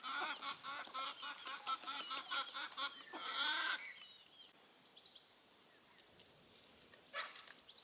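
A pet hen with a single chick makes honking, clucking calls in quick loud bursts for about four seconds, then the yard goes quieter with faint ticks and one more short cluck near the end.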